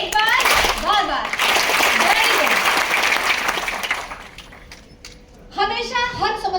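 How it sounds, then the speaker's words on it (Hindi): An audience at a Vestige business leadership talk claps hands in a loud, dense burst that fades after about four seconds. A voice begins speaking near the end. "जो तैयार है एक बार ताली बजाएं"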